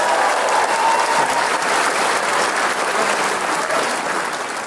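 A comedy club audience claps together in a dense, sustained burst of applause that stays loud for several seconds before tapering slightly.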